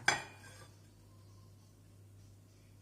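A single sharp clink of European flat dinner plates, about 24 cm across, being handled, ringing briefly and then fading into a quiet room hum.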